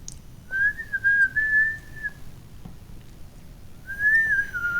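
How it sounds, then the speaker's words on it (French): A person whistles a sustained, wavering tone twice, with a pause between phrases, against quiet background noise during an Among Us game session. "Je sais pas si vous m'entendez siffler."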